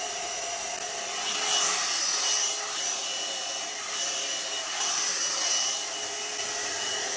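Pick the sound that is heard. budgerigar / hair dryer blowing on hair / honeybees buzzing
hair dryer blowing on hair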